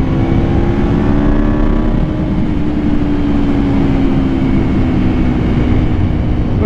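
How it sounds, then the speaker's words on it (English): A 2018 Aprilia RSV4RR superbike is ridden along back roads in southeast Georgia, its engine droning loud and close, with steady wind roar and the pitch rising and shifting. "I'm on a super bike."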